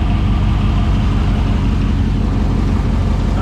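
The Hemi V8 of a 2020 Dodge Charger idles close by, a loud, steady, deep rumble with an even low throb and no revving.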